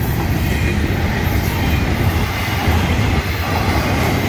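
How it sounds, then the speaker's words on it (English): Loud, continuous rumble of a long Florida East Coast Railway freight train rolling by nearby, rattling wagons and a faint clickety-clack over a deep low roar. "Pretty big train."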